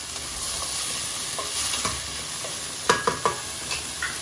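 Osso bucco with celery simmering in a pot, a soft steady bubbling hiss with a few sharp clinks of a utensil against the pot near the end, close and quiet without speech.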